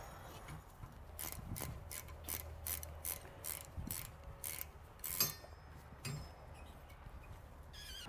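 A ratchet wrench tightening suspension parts on a Lexus LX 450, heard as a quiet series of quick metallic clicks in short bursts over a low background hum.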